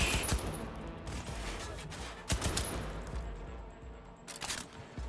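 Gunfire in Cyberpunk 2077 sounds as a few sharp, loud shots spaced a second or two apart over a rumbling background, with faint noise between the bursts.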